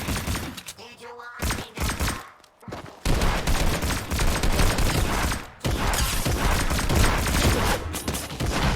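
Fortnite gunfire: dense bursts of rapid shots and thumps in a video game, with a brief lull before heavy firing resumes and continues loudly to the end.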